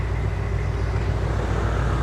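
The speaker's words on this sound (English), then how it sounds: "There's a lot of car traffic." Car traffic on a city street near Market Street and the Embarcadero in San Francisco, a continuous loud rumble of passing vehicles with no breaks and no voices.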